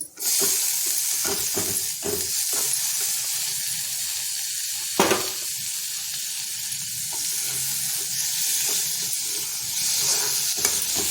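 Finely chopped tomatoes sizzle and fry in a pan with coriander powder and turmeric for an ivy gourd stir-fry, a constant loud hiss broken by occasional scraping stirs.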